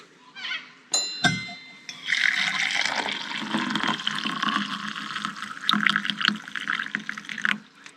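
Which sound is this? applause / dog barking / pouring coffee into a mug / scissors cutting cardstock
pouring coffee into a mug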